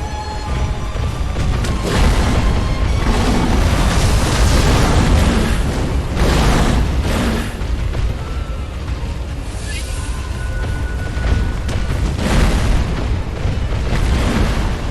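A firecracker pops and bursts amid dense, loud combat noise in the video game Sekiro, with repeated booms and crashes filling the whole stretch without pause.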